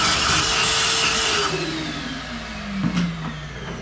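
A Stingray Corvette engine runs loud and close while the car backs out, a steady rumbling drone with a falling pitch sweep and a brief bump near the end.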